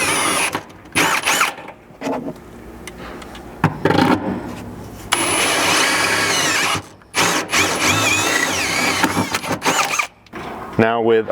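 A power drill with a 17/32 bit whines and squeals as it bores through the sheet-metal floor of a Jeep Wrangler JKU in several bursts, with pauses and faint handling noises between runs, close to the microphone.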